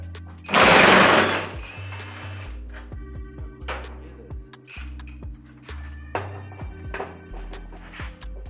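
A Snap-on ratchet works on body bolts of a 1967 Mustang fastback coupe during body removal. A loud burst opens, followed by a steady run of rapid clicking and ratcheting taps.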